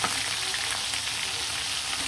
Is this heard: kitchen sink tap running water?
no